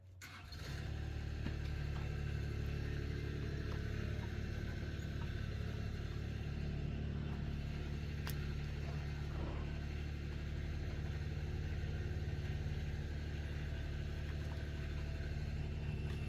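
A Bobcat walk-behind loader's warm engine idles steadily and loudly up close, a constant low mechanical drone with a brief flutter of revving at the start and no talking.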